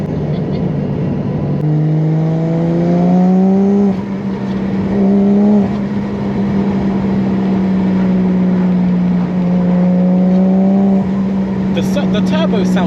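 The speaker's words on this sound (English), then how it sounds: "If you can hear this in the flesh, the turbo sounds mad when you let off." Turbocharged 1JZ engine in a 1999 Nissan Silvia S14 revs up in several rising pulls over a steady idle, close and loud, with talk over it.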